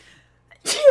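One sudden, forceful sneeze at close range, a sharp breathy burst after a brief quiet intake, heard alone.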